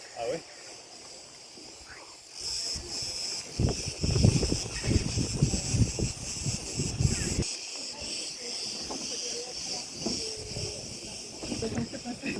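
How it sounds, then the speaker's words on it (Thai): Dense, shrill insect buzzing of cicadas at an ancient site in Greece hangs over the whole scene, joined midway by louder rustling and bursts of nearby activity. "อยู่ที่นี่เสียงจักรจันเต็มไปหมดเลยนะ"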